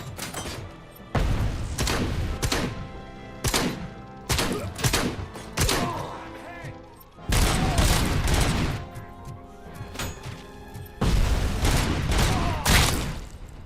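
Repeated loud gunshot bursts and heavy explosion thuds from grenades ring out in a video game's city setting, with sharp cracks and booming impacts arriving in clusters over a constant noisy backdrop.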